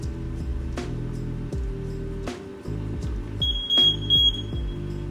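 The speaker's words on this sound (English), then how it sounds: "first is the heat alarm." A heat alarm in a kitchen area is tested, with a shrill electronic beep sounding briefly near the end over a background of low repeating tones.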